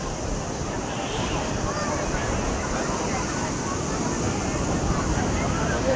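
Sea waves breaking at Puri beach, a steady loud roar of surf mixed with wind noise throughout, with faint voices in the background.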